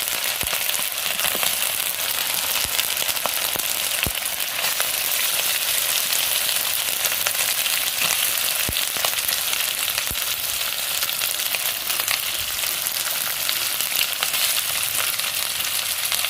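Chicken pieces sautéing in an open pan, a steady dense sizzle with crackling pops and occasional scrape of stirring running throughout, close and loud with no voices.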